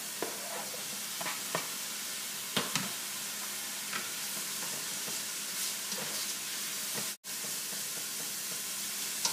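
A ham hock sautés in a pot with a steady, soft sizzle and hiss, broken by occasional light clicks and knocks of a utensil, close by but fairly quiet, with no talking.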